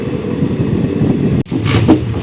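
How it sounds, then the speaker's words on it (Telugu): The Garudadri Express rolls into Avadi station at platform 1 with a loud, close rumble of wheels on rails and a brief high wheel squeal. "Avadi railway station platform number 1 పైకి అయితే వచ్చింది మన ట్రైన్"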